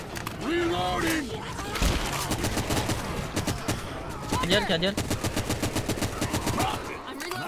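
Rapid automatic gunfire in Left 4 Dead 2, long bursts of sharp evenly spaced shots with brief pauses, loud and close, while players talk over it.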